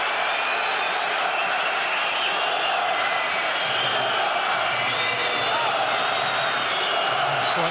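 A stadium crowd at a Croatia v Belgium football match gives off a steady, broad roar of massed voices, continuous and fairly distant, without sharp cheers standing out.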